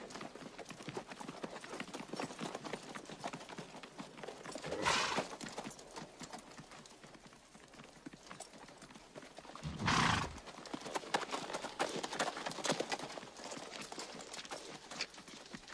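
Horses in a war-film battle scene: steady hoofbeats clatter throughout, broken by two loud, drawn-out neighs a few seconds apart, with faint background commotion.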